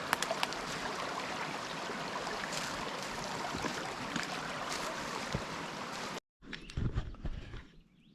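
A small creek runs through late-winter woods, its steady broadband rush of flowing water continuous and close for several seconds, then briefly cut before resuming with nearer splashing and rustling.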